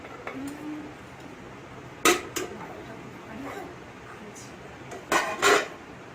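Dishes and serving utensils clinking while paneer is served as a festival offering in a home kitchen; a few sharp, close clatters and knocks spaced apart over quiet room noise.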